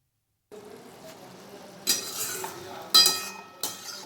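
Spicy giant prawns stirred in a pan over medium flame, a soft low sizzle with three distinct sharp metallic clinks and scrapes of the spoon against the pan, fairly quiet and close with no voices.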